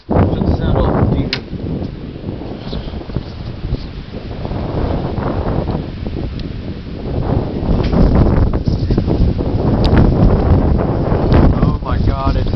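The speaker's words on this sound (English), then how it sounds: "Listen to the wind." Strong gusty wind roars and buffets the microphone during a severe wind storm in Cambridge City, Indiana, loud and continuous throughout, with people talking over it.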